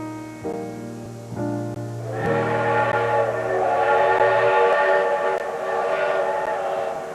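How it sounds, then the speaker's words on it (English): Train with a steam whistle: two short toots, then a long sustained whistle blast over the rumble and clatter of the rolling train, loud and fairly near, with the whistle fading out midway. "Then Hatfield boarded a train for Wheeling"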